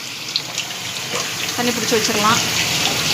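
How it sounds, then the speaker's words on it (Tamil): Tap water runs steadily into a vessel to soak rice for idli batter in a home kitchen, a continuous splashing flow with a faint voice murmuring underneath. "தண்ணி பிடிச்சி வச்சிடலாம்"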